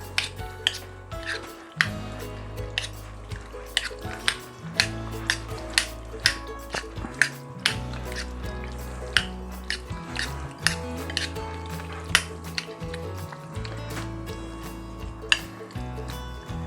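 Chopped onion stirred into a bruschetta topping, giving repeated sharp clicks and wet taps of a utensil against the bowl at an irregular pace, close and fairly quiet over a low steady hum.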